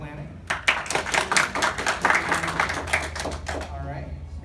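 Audience clapping at a live convention Q&A panel during a crowd vote, a burst of scattered hand claps that swells and fades, mixed with some cheering voices.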